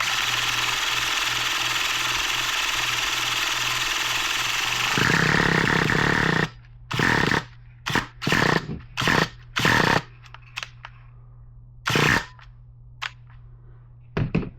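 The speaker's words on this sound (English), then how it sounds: "as soon as you hear that RPM change, stop cranking" A nitro RC car engine is cranked with a steady, buzzing whir for several seconds, then gives a series of short, loud sputtering bursts separated by silence as it tries to catch, close by with no speech.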